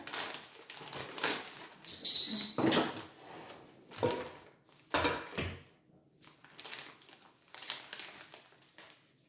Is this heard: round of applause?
no